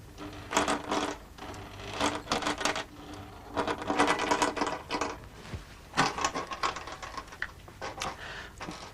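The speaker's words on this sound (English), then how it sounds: "I think you can see the stepper motor moving the needle" A stepper motor drives a sewing machine needle, giving close bursts of rapid mechanical ticking and rattling that start and stop irregularly, with short pauses between runs and no speech.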